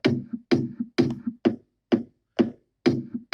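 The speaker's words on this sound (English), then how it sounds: "This is how the kick sound normally." A solo kick drum in a studio production thumps alone in a steady pulse, about eight punchy hits roughly half a second apart, each with a short decay and a small trailing ghost hit.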